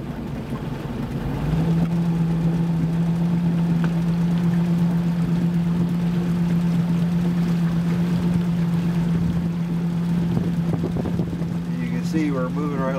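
A motorboat engine drones at a steady low pitch around 1,000 RPM, rising in after a quiet start and holding constant, with water and wind noise around it.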